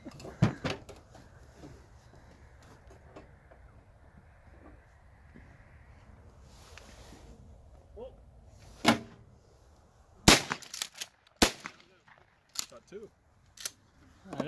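Shotguns firing at clay targets outdoors, several sharp sudden bangs, mostly in a burst near the end, some close and loud, with people chatting between them.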